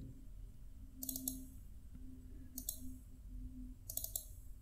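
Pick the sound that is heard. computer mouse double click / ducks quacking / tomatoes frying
computer mouse double click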